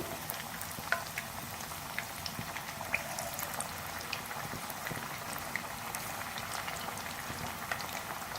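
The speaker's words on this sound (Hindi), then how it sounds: "मीडियम फ्लेम पे फ्राई करेंगे, दोनों तरफ से गोल्डन ब्राउन।" Spicy crispy chicken pieces fry in oil over a medium flame, giving a soft, steady bubbling crackle with scattered small pops.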